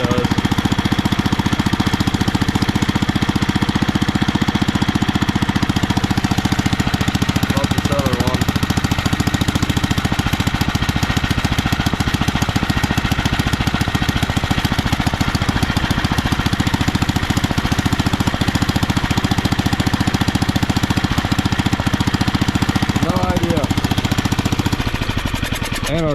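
A rare old tractor engine, just brought back to life after 26 years, runs at full throttle, a loud, rapid, knocking chug that pounds on continuously and close-up throughout.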